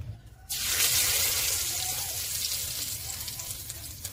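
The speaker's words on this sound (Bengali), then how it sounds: "চিংড়ি ভাজা তেলের মধ্যে দিয়ে দেবো তেজপাতা" Bay leaves drop into hot oil left from frying prawns, bursting into a sudden loud sizzle after a brief quiet moment, then a steady close hiss that slowly eases.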